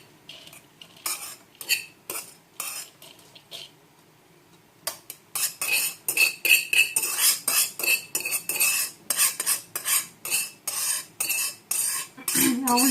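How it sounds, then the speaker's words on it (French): Semolina poured and worked into a couscous steamer, with quiet scattered handling at first, then a close run of rhythmic gritty rustles and light metallic clinks that build in loudness toward the end. "Je vais prendre mon couscoussier. Vous voyez, comme ceci. Je vais verser ma semoule."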